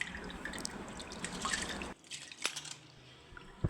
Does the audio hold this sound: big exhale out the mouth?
no